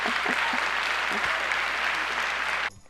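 A live audience at a TEDx talk claps loudly in a dense, steady burst of applause that cuts off abruptly near the end.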